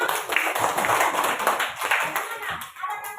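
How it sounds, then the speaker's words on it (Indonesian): A classroom group of students claps hands together after a group presentation, a busy patter of overlapping claps with voices mixed in, fairly close and moderately loud before it thins out near the end. "Ayo kita tepuk tangan semua."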